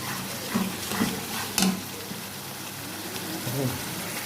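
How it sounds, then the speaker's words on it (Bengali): Spices sautéing in oil in a kadai, a steady soft sizzle with a few scraping stirs of a spoon against the pan, close and moderately loud, with no talk. "দিয়ে এবার ভালো করে তেল ছাড়া একটু কষাবো"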